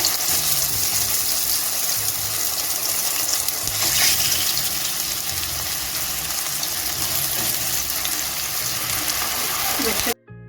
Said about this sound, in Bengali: দেখুন মাশরুমগুলো ফ্রাই করার জন্য আমি একটি ননস্টিক কড়াইতে সাদা তেল দিয়ে গরম করে নিয়েছি।